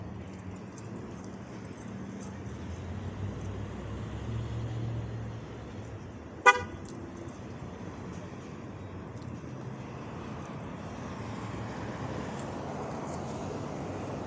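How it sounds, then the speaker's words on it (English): A dump truck passes on a road, a broad low rumble that swells and fades over several seconds, with a sharp metallic clank in the middle and steady traffic-like noise throughout. "That truck, that dump truck."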